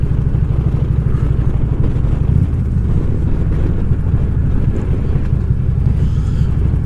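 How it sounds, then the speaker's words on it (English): Steady, heavy wind roaring and buffeting the microphone, a constant low rumble with no voices. "Good bit of wind."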